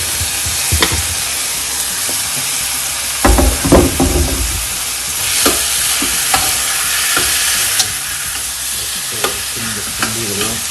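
Three tomatoes sauté in a pan with a loud, continuous sizzle for a Tamil prawn pepper masala, broken by scraping and clacking stirring strokes at irregular intervals.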